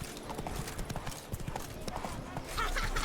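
Hooves of Roach the horse in The Witcher 3 clop in a quick steady trot, close and fairly loud over low ambient noise, with a voice briefly heard alongside.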